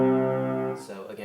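A piano sounds the closing chord of a Hanon finger exercise, a rich sustained tone held steady for most of a second before it cuts off and a faint voice begins.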